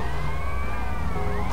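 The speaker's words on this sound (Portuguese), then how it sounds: "Olha lá, já tá vindo uma viatura" A wailing police siren in GTA Vice City rises and falls steadily over a constant engine-like rumble, with no voices.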